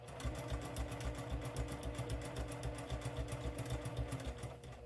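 A sewing machine stitches fabric in a steady, rapid mechanical chatter of needle strokes, close up and continuous throughout with no talking.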